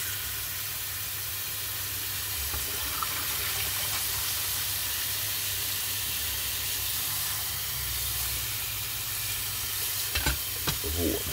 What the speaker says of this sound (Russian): И обязательно заливаем холодной водой, чтобы они лучше чистились.